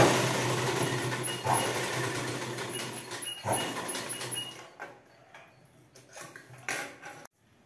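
Sewing machine stitching a blouse, running in a steady mechanical whir at close range, then slowing into shorter start-and-stop bursts before going quiet at the end.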